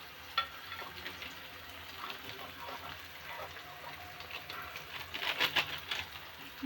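Onion and tomato sauté with salt in a pan for kuzhambu, giving a soft, continuous sizzle with faint stirring scrapes that grow a little busier near the end, with birds chirping faintly in the background.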